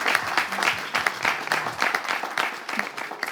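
Applause greets three remaining dancers at a live event. The clapping is close, uneven and pulsing over a few seconds.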